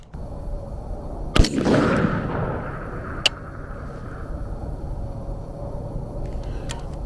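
A rifle fires a single shot at a 627-yard target outdoors: one sharp, loud crack with a rolling echo trailing off over a couple of seconds, then a fainter snap shortly after against steady outdoor background noise.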